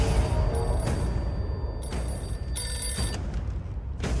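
Telephone ringing in a KGF Chapter 2 film scene, a repeated electronic bell tone in short bursts over a low rumbling score, loud and up front, no talking.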